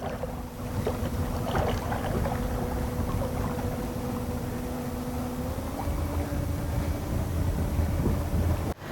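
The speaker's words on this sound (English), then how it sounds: "We're just pulling away under electric power" A Jersey 36 motor boat pulls away quietly under electric power on the Broads, giving a steady low hum with a faint whine and constant wind and water noise throughout.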